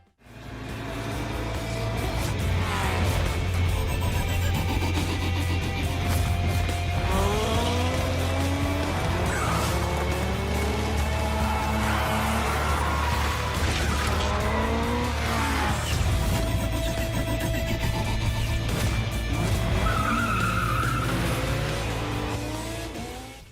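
Race cars in the driving video game Project Cars tear around the track with tires squealing and skidding under steady, loud engine roar that continues unbroken throughout, with no voices.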